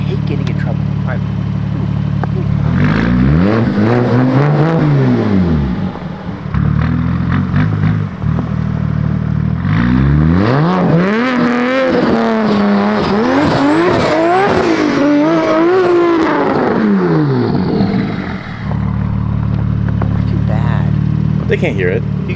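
A 900HP BMW M4 revs hard on a snowy road, its engine note rising and falling in repeated loud sweeps with tire slip and skidding, while people talk over it.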